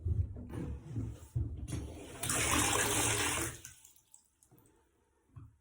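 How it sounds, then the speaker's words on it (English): Water gushes from a bath tap in a short burst after a drip repair, loud and splashing for about a second and a half before cutting off, with clunks and handling noises around it. "Let's turn the water back on."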